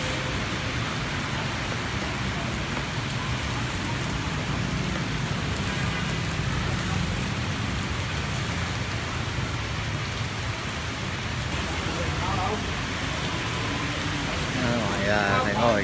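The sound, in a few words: rain falling on a Saigon sidewalk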